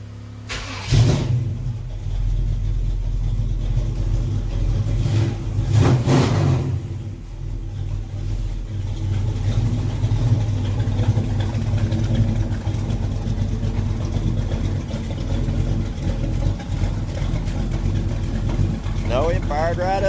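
A 1956 Chevrolet 3100 pickup truck engine cranks, fires and settles into a steady, loud idle close by, with a couple of brief revs early on and someone talking over it.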